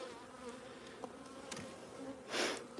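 Excited honeybees in an opened hive brood box during a midwinter inspection, a steady close buzzing hum that swells into a louder burst near the end.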